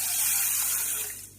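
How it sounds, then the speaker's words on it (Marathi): Rice-plant (tandalachi) leafy greens are rinsed in water, giving a short steady splashing hiss that tapers off at the end. "ही भाजी 2 वेळा पाण्याने स्वच्छ धुवून घ्यायची"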